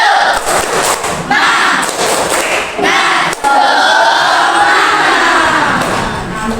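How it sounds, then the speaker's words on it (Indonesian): A school class performs a 'tepuk semangat' clapping cheer together, with loud group shouting and voices in unison mixed with rhythmic claps and thumps for several seconds. "Yuk, tepuk semangat."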